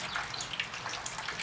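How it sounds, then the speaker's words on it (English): Water pours into the radiator of a Mazda 626 with a 2-liter engine, a soft, continuous splashing and gurgling trickle, faint and steady throughout. "So just add 1 gallon of water"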